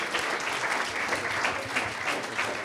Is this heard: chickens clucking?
no